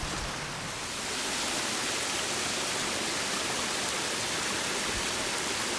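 Small waterfalls on a rocky creek along a forest trail, a dense, steady rushing roar of falling water that fills the whole scene without pause.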